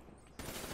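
Rapid automatic gunfire from a weapon in Call of Duty: Black Ops 3, bursting in abruptly after a quiet moment and continuing as a dense, loud stream of shots.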